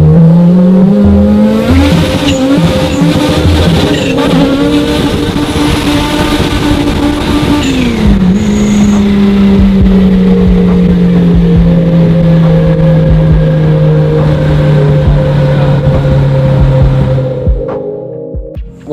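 Kraftwerks supercharged 508hp car accelerating hard, a loud, close engine drone rising through several gear changes with a steady whine, then cutting off abruptly at the end.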